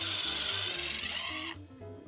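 A power drill pre-drills holes for a garage garden platform, a loud, close, steady high-pitched whir with a pulsing low rumble that drops away near the end as the bit slows.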